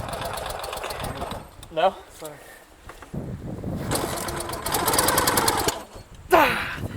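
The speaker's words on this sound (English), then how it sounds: "Help this horrible Russian bike to run." Russian Ural motorcycle engine sputtering and struggling to run with the choke out, a rough irregular putter that surges and dies back, heard up close under excited talk.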